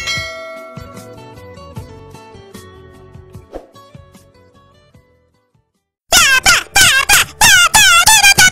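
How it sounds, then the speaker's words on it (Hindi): Bell-like chimes ring and slowly fade, followed after a brief silence by a run of loud, squeaky chirping tones. "सब्सक्राइब करते वक्त ना घंटी बजा देना"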